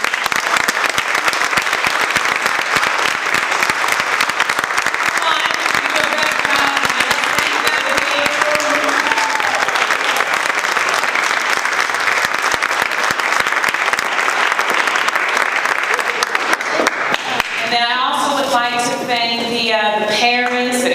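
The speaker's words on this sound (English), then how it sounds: "I would just like for us to give them just another round of applause" Sustained audience applause at a youth debate event, dense and steady clapping filling the room for most of the stretch, with a voice speaking near the end as the clapping fades.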